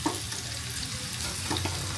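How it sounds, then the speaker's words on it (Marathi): Fresh grated coconut fries in a pan with a steady, close hiss and faint scrapes from stirring, brief and fairly quiet, with no voices. "आता मी काढून घेते आणि त्याच्यात मी आता ओलं नारळ टाकते"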